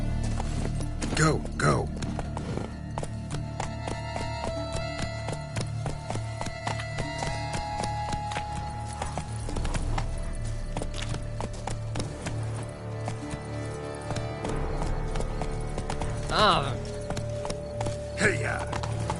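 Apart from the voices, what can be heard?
horse galloping in the video game The Witcher 3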